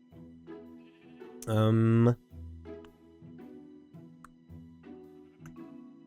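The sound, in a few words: sheep bleating in Minecraft video game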